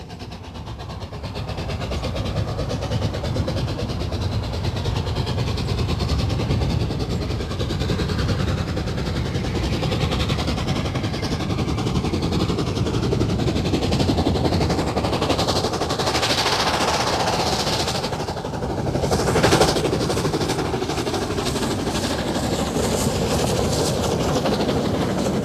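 Mallard, the LNER streamlined steam locomotive, hauls a train out of Skipton on the Settle and Carlisle line, a steady loud rush of exhaust beats and rolling stock with rapid rhythmic chuffing sustained throughout, no voices.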